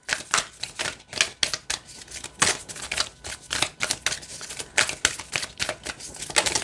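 Goddess Essential Oil oracle cards with a soft, velvety finish being shuffled: a quick, uneven run of crisp papery flicks and riffles, close and moderately loud, with no talking.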